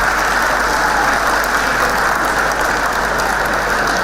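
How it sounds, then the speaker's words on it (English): An audience at a comedy show applauds, a dense, even wash of clapping that holds at a steady loudness with no voices over it. "Clap for women."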